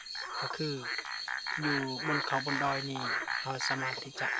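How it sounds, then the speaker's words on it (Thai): Small frogs croak at night in a mountain forest, a steady chorus of rapid ribbity calls under someone talking close by, with insects humming faintly behind. "เฮาจะได้ยินเสียงเขียดเลยทุกคนนี่เสียงเขียด"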